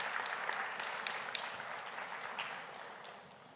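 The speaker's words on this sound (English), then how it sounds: "A round of applause for the Russian students." Applause at a high school Seal of Biliteracy award ceremony, a steady crowd clapping that fills the room and fades slightly toward the end, with no talk over it.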